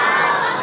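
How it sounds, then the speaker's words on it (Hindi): A crowd at a naat gathering roars the Nara-e-Takbir chant in unison, a loud, close, sustained burst of many voices lasting under a second. "नारे तकबीर ऊंची आवाज में नारे तकबीर"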